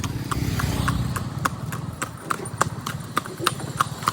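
A horse's hooves clip-clop on a hard surface in a steady, evenly spaced trot of sharp close knocks, with low rumbling background noise underneath.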